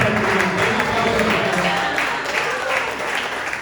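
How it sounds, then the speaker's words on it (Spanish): In a Pentecostal church, Primera Iglesia AD Manantial de Vida, the congregation gives loud, continuous applause. It forms a dense, steady wash of many clapping hands that stays full before easing slightly at the end. "Vamos a dar un aplauso al Señor."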